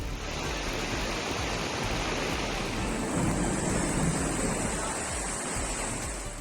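Floodwater rushes during extreme heavy rain in Kerala's low-lying areas, with a dense, continuous roar of torrent and downpour that stays loud and steady throughout.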